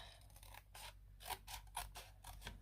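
Scissors snip through scrapbook paper during craft work, a run of crisp, separate cuts at close range, fairly quiet and with no talking.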